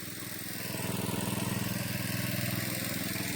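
A small engine-driven crop-spraying machine runs steadily close by in a Konkan orchard, its mid-pitched drone pulsing evenly with no pauses.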